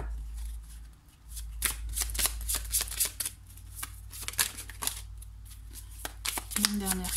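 Tarot cards shuffled for a reading, brisk riffling bursts in quick succession, close and soft over a low hum, with a voice talking at moments.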